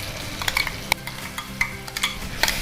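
Ground masala paste being stirred and fried in a pan, close crackling sizzle with repeated sharp scrapes and clinks of a spoon against the metal, no speech.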